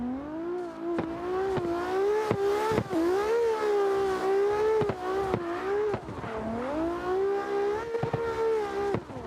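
A Toyota Supra drift car's engine revs hard and rises and falls in repeated pulls during drift practice at a Slidestyle event, loud and fairly near, with occasional tire squeal and no speech.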